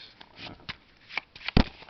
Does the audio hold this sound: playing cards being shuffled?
yes